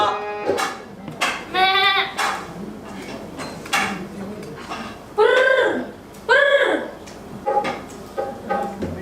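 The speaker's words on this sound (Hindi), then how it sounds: "ये गांधी जी की बकरी है।" A goat bleats several times in loud, quavering calls spaced a second or two apart, with softer background noises and clatter between them.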